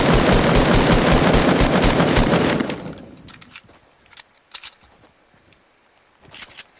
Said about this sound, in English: What the hell is this guy shooting at?